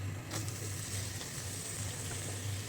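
Chopped onion frying in a pan for a Bangladeshi chapila shutki (dried fish) bhorta, a steady soft sizzle running throughout at moderate level with no talk.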